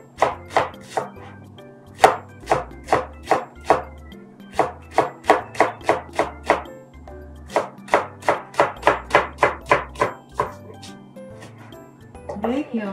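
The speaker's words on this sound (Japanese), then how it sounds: "ネギを切って" Green onions (negi) chopped with a knife on a cutting board for an egg rice bowl, a steady run of sharp, close knife taps in quick bursts, fairly loud and alone.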